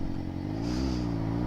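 A Suzuki GSXR motorcycle engine burbles and rises briefly while downshifting, a short close-up engine note heard alone.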